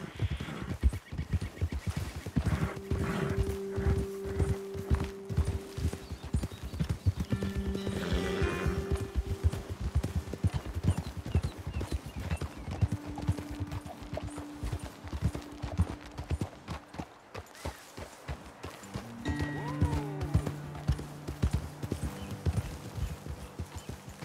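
Horses in Red Dead Redemption 2 walk along a trail with steady clip-clopping hooves, joined by occasional snorts and a whinny, over a constant outdoor ambience with no talking.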